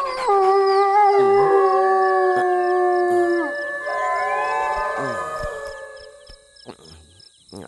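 At night a dog gives long, loud drawn-out howls close by, several overlapping wavering tones rising and falling for several seconds before fading out, with no talking.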